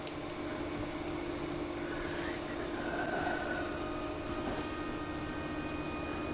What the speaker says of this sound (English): Another angle now, and putting it through the thicknesser